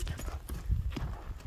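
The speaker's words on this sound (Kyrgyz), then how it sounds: "Ат серьезный ат." A horse walks with its hooves clip-clopping in a steady, muffled rhythm close by, with faint talk in the background.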